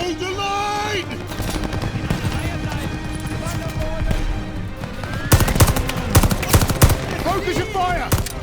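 Dense machine gun fire in Call of Duty: Vanguard, with rapid bursts and sharp cracks running throughout over battle din. The shooting grows louder and more intense toward the end, and shouted voices come through underneath.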